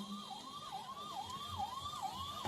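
An emergency vehicle siren wails in a repeating rising-and-falling cycle, faint and distant, over a low background murmur at an outdoor political speech gathering.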